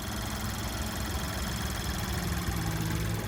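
A 2024 Chevrolet Trax ACTIV's 1.2-liter turbocharged three-cylinder engine runs at a steady idle with the hood open, giving a constant low throbbing hum with slight vibration and no voices.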